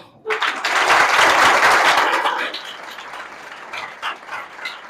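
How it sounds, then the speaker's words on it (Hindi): A standing audience at a mind development program in an academy applauds to welcome a speaker, a loud burst of clapping that swells quickly, holds for about two seconds, then thins to scattered claps. "हम चाहेंगे कि सभी लोग खड़ा होकर एक बार तालियां से सर का स्वागत करेंगे"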